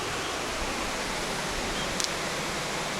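Ouzoud waterfall in Morocco, the country's highest, pours with a steady, broadband roar of falling water that holds constant throughout, close and full without breaks.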